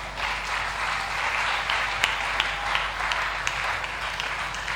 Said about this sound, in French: quand nous acclamons là, nous applaudissons